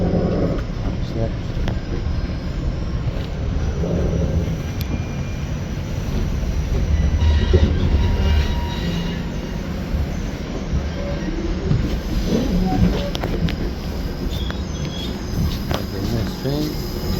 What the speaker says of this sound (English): Now, the train is leaving the station.